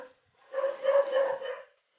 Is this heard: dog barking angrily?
yes